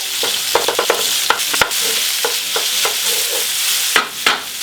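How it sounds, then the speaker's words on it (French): Ground meat searing in a frying pan, a loud, bright continuous sizzle with repeated sharp taps and scrapes as a utensil crushes and crumbles it. "on écrase et on fait saisir la viande"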